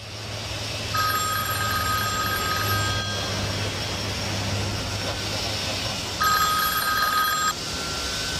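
A telephone rings in two bursts, each about two seconds of trilling bell, over a steady engine-like hum and background rumble.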